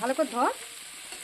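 Spices and water are stirred in a frying pan while cooking outdoors. A short spoken phrase comes first, then a quiet, close sizzle and soft stirring continue.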